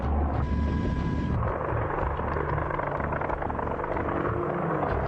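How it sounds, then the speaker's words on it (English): Apache military attack helicopter flying, a continuous loud rotor and turbine roar with steady thumping low rumble, close and dominant throughout with no other sounds. "These helicopters are seeing urban combat like never before"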